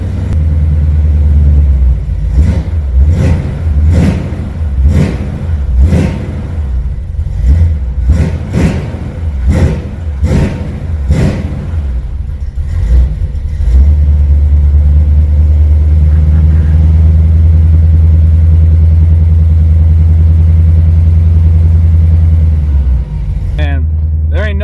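An old small-block Chevy with EFI in a G-body idles loud and close with a deep steady rumble, a few quick throttle blips early on, then settles into an even warm-up drone before cutting off.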